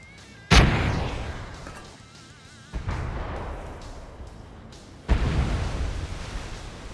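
Three heavy, booming blasts from gunfire and explosions in PUBG during a custom sea-battle match, each a sharp loud onset followed by a long rumbling decay, with no talking.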